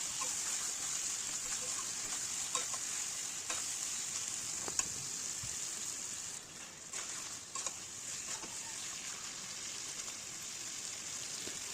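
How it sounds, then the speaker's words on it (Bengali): Chicken pieces frying in spice masala, a dense continuous sizzle with occasional stirring scrapes and taps, close and steady, briefly dipping partway through. "চিকেনটা মশলার সাথে ভালো করে কষাতে থাকবো"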